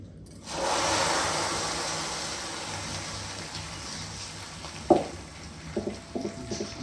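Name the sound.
tempering sizzling in a hot pan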